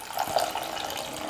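Water runs steadily into a cooking pot at close range, a continuous splashy gush with a slight bubbling tone, no voices.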